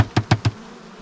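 Honey bees around an open hive give three quick, close buzzing bursts in a row, then fade to a quiet hum, with no voices.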